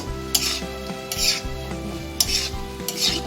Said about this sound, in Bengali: মশলাটাকে হালকা একটু কষানোর পর চুনি কুমড়াটাকে দিয়ে দিলাম